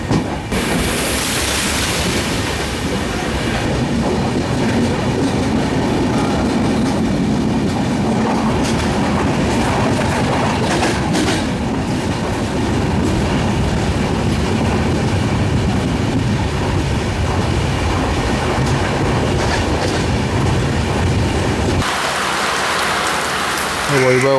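The Mandovi Express rolls along the Konkan railway during monsoon, its wheels keeping up a loud, continuous rumble and clatter close by, with heavy rain mixed in.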